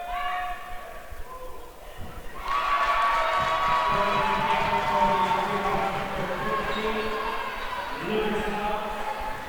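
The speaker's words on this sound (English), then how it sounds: "This Gorman crowd still staunchly behind their Gales." Bishop Gorman's home crowd cheers at a high school basketball game, with a sustained roar of voices and whistles rising sharply after a quieter opening and holding steady, with a commentator talking over it.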